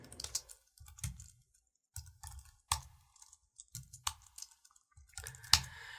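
Bursts of keyboard typing, clustered clicks and keystrokes in uneven rhythm with short pauses, close by and fairly clear.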